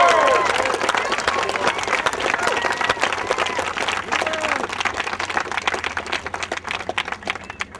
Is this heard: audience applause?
yes